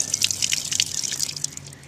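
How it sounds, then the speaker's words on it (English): Warm water poured over growing plants in deep soil makes a close, irregular patter of drips and small splashes that fades toward the end. "we're going to go ahead and water them with warm water"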